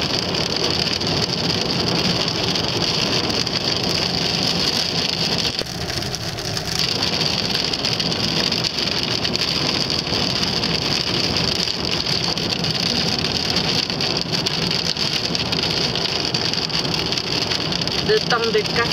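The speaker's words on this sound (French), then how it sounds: "On entend bien la pluie" Steady, dense hiss of rain falls continuously, with a low rumble underneath and no pauses.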